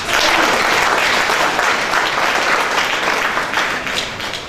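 Sustained, dense applause from an audience at a formal human rights day ceremony, loud and steady throughout before tapering slightly at the end, with no talking over it.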